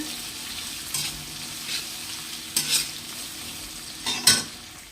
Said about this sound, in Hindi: प्याज को अच्छी तरीके से भून लेना है मिक्स करते हुए